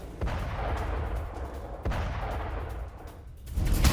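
Air strikes on Hezbollah positions in south Lebanon, heard as two heavy booming impacts about two seconds apart with a low rumbling roar lingering between them and swelling again at the end, with no voices.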